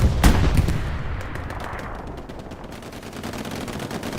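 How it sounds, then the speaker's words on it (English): Incoming artillery rounds in Hell Let Loose on Utah Beach: a sharp loud blast up front trails into a long rumbling roll and a steady wash of distant gunfire, with no talk. "Artillery rounds coming in as well."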